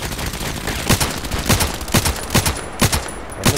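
KelTec RFB carbine fire in the Contract Wars video game, a rapid string of sharp, loud gunshots at a quick irregular rhythm, about a dozen reports over a few seconds with no talking.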